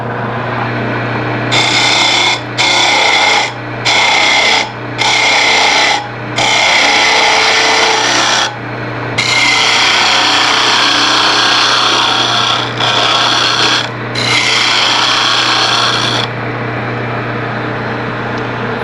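A wood lathe spins a turned piece with a steady low motor hum while a tool cuts in repeated bursts of harsh scraping and shaving, each lasting a second or two with short pauses between.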